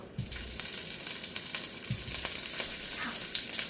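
Meatballs sizzling in hot oil for vermicelli bowls, a dense, steady crackling fry with occasional soft pops and low thumps, close and fairly loud, with no talking.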